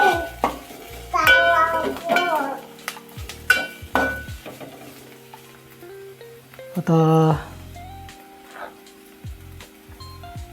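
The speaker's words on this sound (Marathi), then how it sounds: "जरासं आलं टाकूया आणि ते पण परतवून घेऊया." Ginger sautéing in a pan over a Konkani cashew-vegetable preparation, heard as scraping and clinking stirring strokes with a light sizzle, mixed with a voice speaking throughout.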